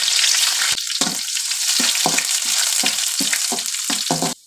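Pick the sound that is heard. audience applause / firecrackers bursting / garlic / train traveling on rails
garlic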